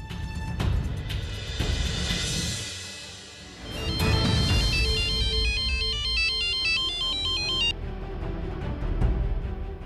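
A telephone rings with a melodic electronic ringtone, repeating bright tonal patterns that build and continue steadily for several seconds, loud and close over a low background hum, with no talking.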